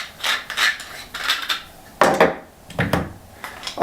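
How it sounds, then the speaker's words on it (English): Legs of a travel tripod are twisted loose, making a run of short scraping, ratcheting rubs in irregular bursts, close up and moderately loud with no voices. "And then if I unscrew that, unscrew these legs once again"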